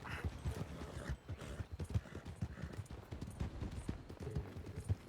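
Horse hooves in the RedM video game clip-clop at a steady walking pace, with an uneven rhythm of soft thuds against a faint, quiet background.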